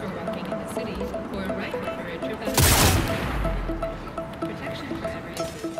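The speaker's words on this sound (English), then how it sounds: "you can still aim and shoot at other NPCs in the game" Gunfire aimed at townsfolk in an open-world video game: scattered shots over in-game ambience, one loud burst standing out midway, with horse hooves and a voice talking underneath.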